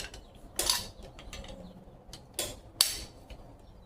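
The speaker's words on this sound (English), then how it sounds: "So we're going to use a socket here." A socket wrench clicks through a few short bursts of ratcheting on the pinion of a 1972 Pontiac GTO during a pinion seal replacement, close and crisp against a quiet garage background.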